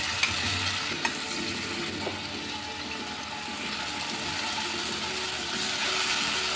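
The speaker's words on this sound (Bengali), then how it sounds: "এই মশলাটাকেও ভালো করে কষিয়ে নেবো" Spices with ginger garlic paste, green chilli, cardamom, cloves and cinnamon fry in a pan for an eggless omelette curry, a continuous close sizzle with a few sharp clicks near the start.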